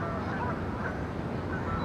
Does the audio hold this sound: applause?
no